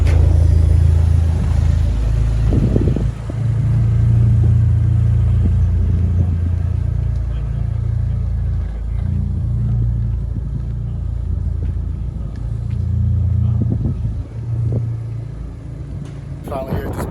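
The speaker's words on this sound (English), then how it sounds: "Car's on the dyno right now." A Dodge SRT4 on a dyno gives off a loud, steady engine rumble with a couple of brief rises in revs, running throughout.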